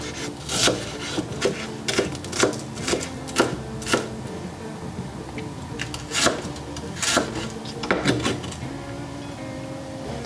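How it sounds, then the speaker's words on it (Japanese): A kitchen knife chops myoga ginger buds on a wooden cutting board for namerou condiments, a steady run of crisp, close taps with brief pauses between bursts. "次はなめろうの薬味を切っていきます"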